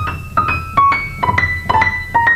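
A quick, uneven run of piano notes from Liszt's La Campanella, played inaccurately, some ringing and some clipped, close and fairly loud with halting rhythm.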